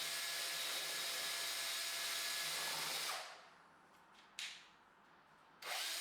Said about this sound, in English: The use of a drill and the mixer paddle makes this job much easier